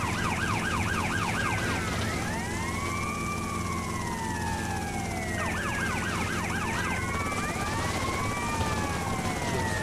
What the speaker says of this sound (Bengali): চতুর্দিক থেকে শুধু গাড়ির শব্দ আর গাড়ির শব্দ।